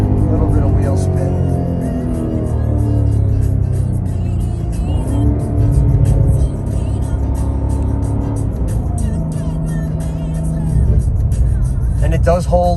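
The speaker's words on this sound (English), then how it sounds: "we're gonna do a little bit of wheel spin" Cadillac Blackwing's engine revs loud and close under steady, strong drive with rising and falling pitch sweeps during wheel spin, continuous for about thirteen seconds, with a voice partly over it.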